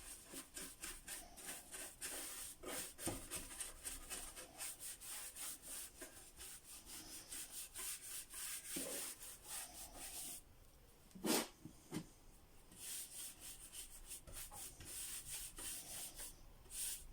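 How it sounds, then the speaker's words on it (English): Wax being rubbed onto wooden furniture with strokes in every direction, giving a continuous soft scratchy rubbing with rapid back-and-forth texture, quiet and close, briefly interrupted by a small knock. "As you can see, I apply my wax in every direction."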